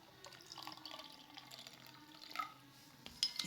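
Water is poured into a spoonful of shatavari powder, giving a faint, quiet trickle and light dripping in a still indoor setting, with a few small clinks near the end.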